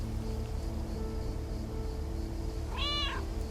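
Cats meowing in the video game Lake, a short rising meow near the end over a steady hum of background music and ambience.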